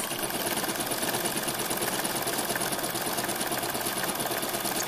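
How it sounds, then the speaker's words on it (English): A sewing machine running steadily, top stitching a triple step zigzag on high stretch fabric for a sports bra, a close, even mechanical whir and rapid needle chatter throughout with no talking. "So I'm going to move you over to my sewing machine so you can watch me top stitch."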